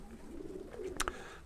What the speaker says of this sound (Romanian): Apropo, acești 2 porumbei